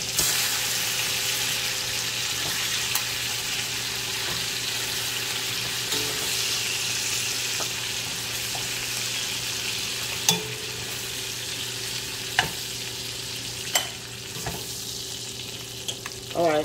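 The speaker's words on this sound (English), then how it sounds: "Let's put the last three that we have in here really quick and get these to frying." Beef ribs fry in a pan with a steady, close, dense sizzle that holds throughout, dotted with occasional sharp pops and clicks.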